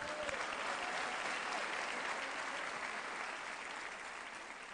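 Sustained audience applause at a live comedy show during a music festival in Olmué, dense and steady clapping from a large crowd that slowly tapers off.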